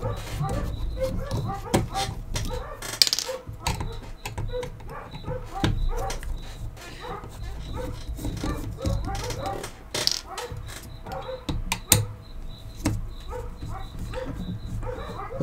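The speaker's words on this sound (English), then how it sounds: "Those are my dogs barking at something out there." Several dogs bark outdoors at a distance, a steady run of muffled barks and yips carrying through a workshop where small clatter and handling noises continue over a low hum.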